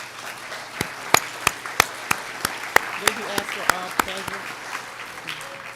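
Scattered claps in a high school hall of fame induction audience honor school administration and staff. There are a dozen or so distinct sharp claps spaced out over steady room noise, and some talking can be heard underneath.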